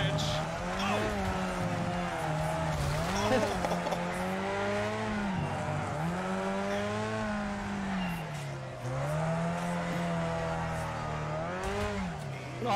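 Racing video game cars with a droning, wavering engine note that rises and falls in sweeping revs, tire squeal mixed in and a collision moment, under continuous game sound with no pauses.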